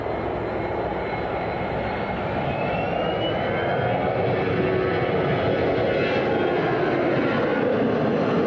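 Steady, loud airliner engine roar with a broadband whine from a fixed-wing jet on the runway at Miami International Airport, continuous and near throughout.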